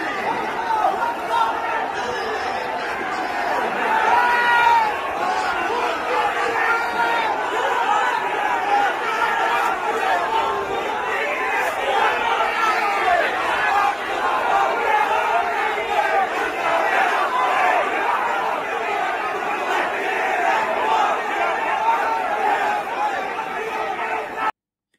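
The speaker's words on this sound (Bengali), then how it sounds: "আজকে তারা ঢাকার রাস্তায় প্রকাশ্যে মিছিল করলো এবং মিছিল করে তারা তাদের দাবি জানালো" A protest march on a Dhaka street, a large crowd chanting and shouting together in a dense, steady roar that fills the whole span without a break.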